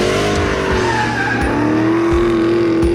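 A 2020 Dodge Challenger SRT Super Stock pushed hard on a race track, its engine roaring loud and steady while the tires squeal and skid through a long slide, with no talking.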